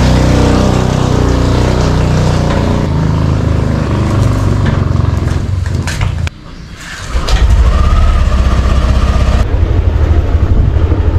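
A Yamaha Aerox 155 V2 scooter fitted with 11-gram flyballs is ridden at speed, its engine droning loud and steady with wind roar. The engine briefly drops off, then rises again into a strong, sustained rev.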